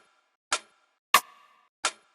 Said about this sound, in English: the first rim shot right here was from Drumstar V4